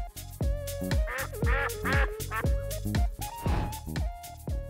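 Toy duckling in a small plastic pool, giving a rapid series of loud, nasal quacks close by, with no talk over them.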